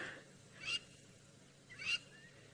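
Two loud, harsh cackling bird calls a little over a second apart, ringing out over a quiet outdoor background in the bush during a sunrise safari drive.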